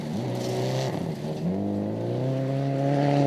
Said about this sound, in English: you can just hear the car struggling to dig through that gravel